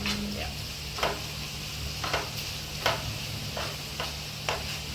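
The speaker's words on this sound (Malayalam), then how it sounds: "നന്നായിട്ട് മൂപ്പിക്കുക" Chili powder and spices fry in a pan for prawn pickle, a soft steady sizzle broken by about seven sharp spoon scrapes at an even pace, with no one talking.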